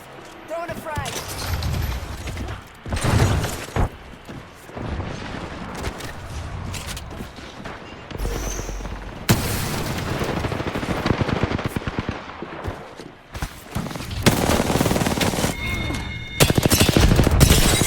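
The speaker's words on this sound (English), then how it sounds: "Throwing a frag." A frag grenade is thrown in a first-person shooter game amid dense machine-gun and rifle fire, with loud bursts and booms through the sequence and a voice talking over the action.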